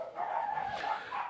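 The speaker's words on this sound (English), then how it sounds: "And the dogs are upstairs having a hissy fit." Dogs bark upstairs in an agitated fit, muffled and fairly faint through the floor, a short burst of yapping with no talk over it.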